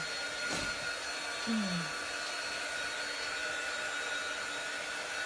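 A dryer blows steadily to quickly dry a freshly painted Halloween pumpkin, giving a constant airy whoosh that runs unbroken from start to finish at moderate loudness.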